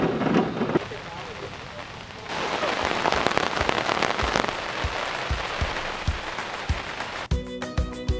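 Rain falls before a storm, a dense steady patter that swells after a quieter opening, with faint voices underneath and a sharp tonal clatter at the end.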